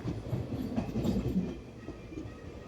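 The Lucknow Express rolls along the rails on the Chennai Central to Ongole line, a steady rumbling clatter of wheels and carriages heard from inside, with rhythmic knocks and no talk.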